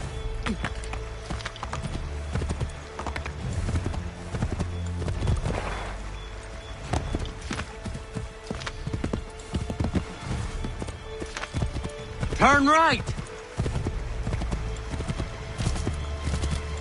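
Horse hooves clip-clop at a steady gallop in Assassin's Creed 3, running continuously beneath a game soundscape with a brief whinny partway through and a voice calling out once.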